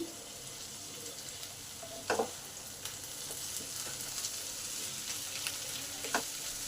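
Potatoes fry with ground cumin, coriander and chilli in a pan for a Bengali aloo chilli dish: a quiet, steady sizzle with a few light spatula scrapes and knocks, close by.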